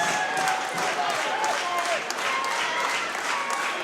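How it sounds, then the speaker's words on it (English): A professional wrestling crowd cheers and applauds steadily at a Warrior Wrestling show: dense, continuous clapping and crowd roar at an even level throughout. "Mike Bennett getting the crowd amped up"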